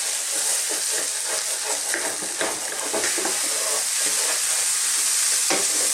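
Flour toasting in a pan for beef stroganoff is stirred constantly, giving a close, steady sizzling hiss broken by frequent scraping strokes of a utensil across the pan, with no talking.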